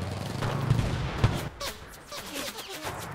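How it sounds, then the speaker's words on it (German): Dense gunfire from many enemies in the Enlisted video game, a close fusillade of overlapping shots and bursts early on that thins into scattered cracks and pops. "ich werde aber dummerweise beschossen von sehr vielen Leuten"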